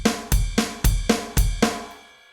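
An uptempo gospel drum groove played on the ride cymbal, with the ride left out on the snare hits. Evenly spaced strikes sound close and loud, each one bright and ringing, and the last one fades out alone.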